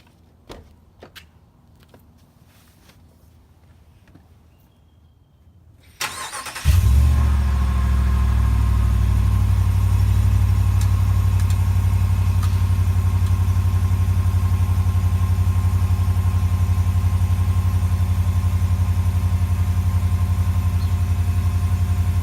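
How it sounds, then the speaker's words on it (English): After a few quiet seconds of small clicks and movement, a 2019 RAM pickup truck engine cranks and fires up from cold, then settles into a loud, steady, deep idle. "let's go ahead and get a cold start."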